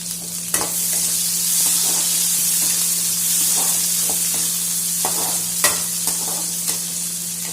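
Onions sauté in garlic oil with a steady, bright sizzle throughout and occasional stirring taps, close and loud.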